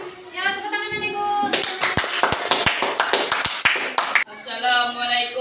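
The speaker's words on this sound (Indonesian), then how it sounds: "Ya, tepuk tangan Ibu." Scattered classroom applause with sharp hand claps, opening and closing with a voice speaking over it.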